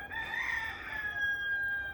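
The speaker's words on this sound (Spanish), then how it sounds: "¿Hay gallos sueltos acá?" A rooster crows once in a long, drawn-out call, fairly loud and close, with no talking, near Playa Crash Boat in Puerto Rico.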